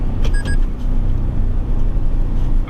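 A 2023 Toyota Tundra Limited towing at around 55 mph while being shifted manually, giving a steady low engine and road rumble with a brief chime-like tone near the start and no talk.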